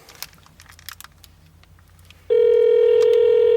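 A telephone call being placed: a few faint clicks and soft handling noises, then a loud, steady telephone tone starts abruptly and holds to the end.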